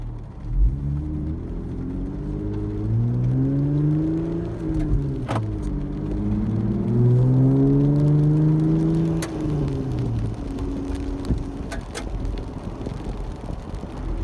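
A Jeep Rubicon JL with a Flowmaster American Thunder exhaust and muffler delete kit drives down a street, its low engine rumble rising and falling in pitch as it accelerates and shifts, steady and fairly close.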